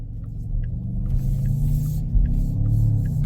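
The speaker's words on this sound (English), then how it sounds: "I don't know if you can hear this thing rumbling behind me," A 2024 Porsche Cayenne S with its 4-liter V8 and sport exhaust idles with a deep, steady rumble close by, swelling briefly partway through and carrying on alone with no talk.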